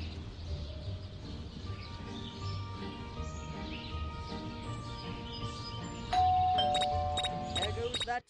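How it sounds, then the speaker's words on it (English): A bell rings in the mobile horror game Scary Teacher 3D, a sudden bright chiming burst near the end over background game music and ambience. "There goes that stupid bell again."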